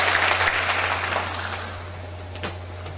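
An audience at an opening ceremony for a poetry and arts event claps, scattered applause that is strongest at the start and tapers off gradually over three seconds beneath a steady low hum.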